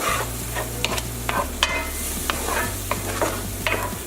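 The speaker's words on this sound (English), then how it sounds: "And we're going to stir for about 30 seconds." A spoon stirs chicken pot pie filling with shallot, cream and demi-glace in a hot pan. A constant low sizzle sits under a series of sharp, evenly spaced scrapes against the pan.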